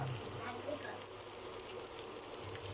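Boiled young jackfruit stir-fried in a pan with fish sauce, giving a steady, close, low sizzle and faint scraping throughout, with a quiet voice now and then.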